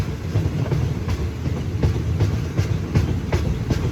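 Passenger train 445 rolls along the line while pulling into Ban Dot station to let another train pass, heard from inside the carriage as a loud steady rumble with rhythmic clickety-clack of wheels over rail joints.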